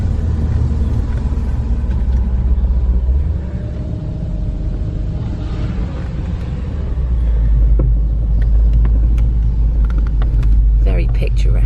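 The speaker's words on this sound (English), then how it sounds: "the car literally just fits up some of these lanes" A car drives along narrow country lanes on the scenic route to Ilfracombe, heard as a loud, continuous low engine and road rumble that swells slightly toward the end, with a few faint knocks and rattles.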